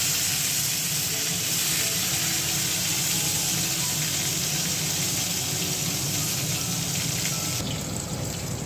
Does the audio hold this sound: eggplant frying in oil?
yes